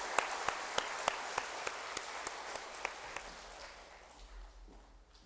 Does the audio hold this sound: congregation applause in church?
yes